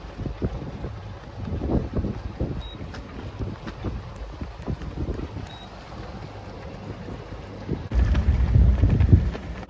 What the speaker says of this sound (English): So here's the conditions. Wind's picking up.